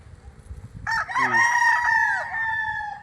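A seven-month-old full spark gamefowl stag crows at a farm in Tagaytay City, one loud, close, drawn-out call that rises and holds before tailing off, with no talk over it.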